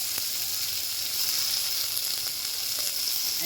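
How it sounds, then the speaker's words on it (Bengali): Field crabs frying in a pan with oil and turmeric, a steady bright sizzle that holds even throughout, close by, with a faint low hum underneath and no speech. "মা এই কাঁকড়াগুলোকে ভেজে নিচ্ছে।"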